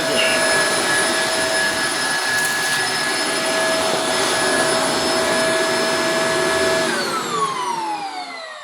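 A loud, steady Shark Apex Zero-M vacuum cleaner in hard floor mode picks up cereal on a hard floor, roaring close by with a high whine, then winds down toward the end as the motor pitch drops.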